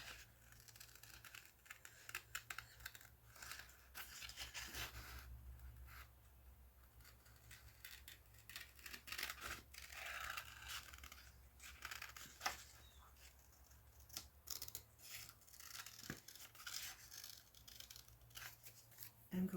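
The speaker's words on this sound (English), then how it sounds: "I'm just gonna go in and out with my scissors" Scissors snip through paper during a notebook makeover, a quiet series of short irregular cuts and rustles with brief pauses, close by and faint, with no talking.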